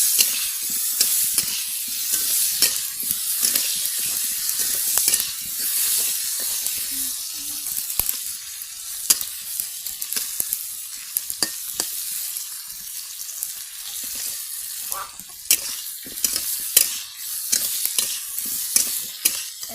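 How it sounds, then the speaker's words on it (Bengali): Potatoes coated in turmeric and salt fry in a wok over a village clay stove, giving a steady loud sizzle and hiss with scattered stirring clicks throughout, no voices heard. "আলুগুলো একটু লাল লাল করে ভেজে নেব।"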